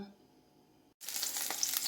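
After a brief silence, a loud, steady sizzle of four dry red chilies frying in hot coconut oil in a pan starts abruptly and continues, crackling and close.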